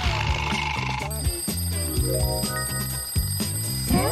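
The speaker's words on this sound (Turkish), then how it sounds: "Alarm ne anlama geliyor biliyorsun." Loud electronic alarm clock ringing in a repeating stepped tune, steady and insistent throughout, with music-like tones layered over it.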